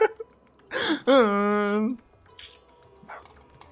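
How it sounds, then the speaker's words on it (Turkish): In-game dog sounds in GTA Online during a Halloween peyote-plant transformation: a short bark followed by a longer drawn-out whining yelp, then a couple of faint yips, with people talking and laughing around it. "Ama ben de köpek sesi geldi"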